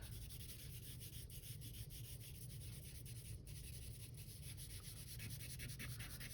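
Pencil rubbing steadily across paper while shading the dark shadow side of an apple drawing, a continuous soft scratchy texture close up with no talking.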